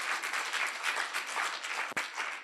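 A symposium audience breaks into dense, sustained applause for guests from Canada, loud many-handed clapping filling the room, cut briefly near the end.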